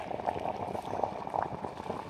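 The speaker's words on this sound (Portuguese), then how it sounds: "o óleo começou a ferver" Quenching oil boils and seethes around a hot steel knife blade for a rebar-cutting machine, a steady bubbling crackle with small louder pops, close by and continuous.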